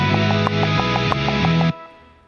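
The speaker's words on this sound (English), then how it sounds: "turned up the metronome. Sounds like this." A metronome ticks in a quick, even pulse with louder accented beats over a sustained musical backdrop, then stops abruptly near the end, leaving a fading tail.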